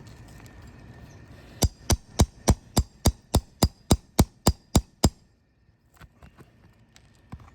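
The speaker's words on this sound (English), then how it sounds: "I'm just gonna lift it just high enough to locate that nail and get it out with the nail puller." A nail puller working a roofing nail out from under an asphalt shingle: a quick run of about twelve sharp, even taps in steady rhythm, close and fairly loud, then quiet with a few faint knocks.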